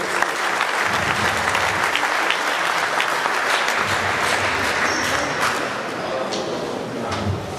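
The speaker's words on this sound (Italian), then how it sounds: "Facciamo un applauso" An audience at a volleyball coaching clinic gives dense, continuous applause, loud and even from start to finish with a few scattered knocks and shuffles.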